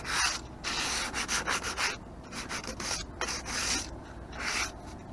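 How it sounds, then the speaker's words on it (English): Rough, rhythmic sanding strokes rasp back and forth across a painted, plastered surface, close and steady, with brief pauses between passes and no talking. "So I'm going to do some sanding,"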